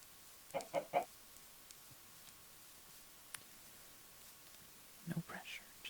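Minecraft chickens give short clucks, a quick burst of three near the start and another cluster near the end, with soft whispered talk and quiet game ambience between.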